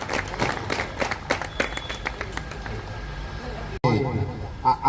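Audience applause and clapping at a gym competition, a dense continuous patter of many hands with crowd noise and some voices mixed in, briefly cutting out near the end before resuming.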